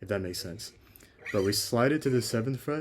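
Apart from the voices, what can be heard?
No distinct noise like a dog, phone or traffic.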